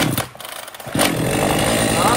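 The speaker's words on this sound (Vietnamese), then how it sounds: "mình kéo e này ra, dập nó ho một tiếng mình đẩy vào nha" A used Japanese Ruby chainsaw's engine gives a brief cough as it is pull-started, a short loud burst near one second over an ongoing mechanical rattle, with a voice speaking nearby.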